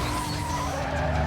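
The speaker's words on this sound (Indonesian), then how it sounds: "Ah, tabrak mobil lagi." Car crash in the racing game Need for Speed Most Wanted: a loud, gritty skid and scrape of tires and metal running continuously for a moment, with no voices.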